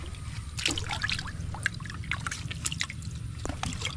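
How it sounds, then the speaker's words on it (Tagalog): Irrigation water trickles through a channel feeding a squash field, a soft steady gurgle with scattered splashy drips over a low background hum, fairly faint. "Bali dito po nang gagaling yung ating tubig sa crossing na rin"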